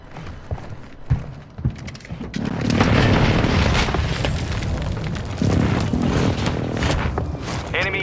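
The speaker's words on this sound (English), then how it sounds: "Enemy precision airstrike." Enemy precision airstrike in a Call of Duty battle royale match, a burst of heavy booming explosions rolling on for several seconds after a few sharp thuds, loud and continuous.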